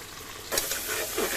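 Tomato, cumin, coriander, chilli powder, turmeric, meat masala and black pepper fry together for a mutton curry, a close, steady sizzle with a brief stirring scrape partway through.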